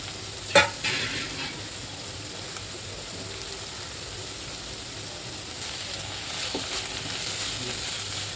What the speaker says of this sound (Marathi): मसाले मी आता यात चांगले परतून घेते.